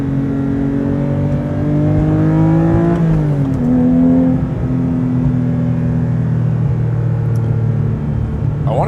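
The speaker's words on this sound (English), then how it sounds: "Rev match the third. Rev match the second." Engine of a Manthey Racing Porsche 911 GT3 blips and drops in pitch as it downshifts with rev matching, a steady loud interior drone with a sharp rev change midway, heard alone from the cockpit.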